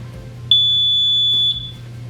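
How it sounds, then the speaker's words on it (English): An alarm panel's piezo sounder goes off when a door contact opens, giving a single piercing one-second beep close by, with quiet room tone before and after. "the piezo basically just goes off for 1 second anytime that door contact is opened"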